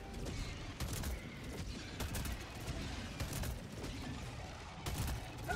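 Rapid bursts of gunfire from the shooter video game Helldivers 2 crackle in quick succession, sharp repeated shots with brief pauses between volleys, fairly faint and mixed with clattering mechanical noise.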